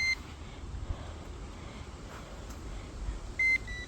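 Electronic fishing bite alarm at a lakeside, giving a short sharp high beep near the end over a faint, steady outdoor wind background.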